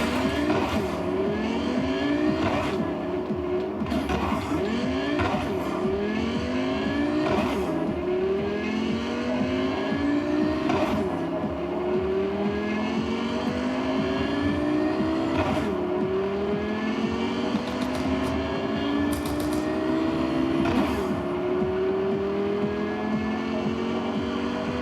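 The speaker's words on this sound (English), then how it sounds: "I think that's still the fast car in the game." A fast car racing in a video game played on a mini PC, its engine revving up through gear after gear in repeated rising sweeps, loud and continuous with occasional sharp shifts throughout.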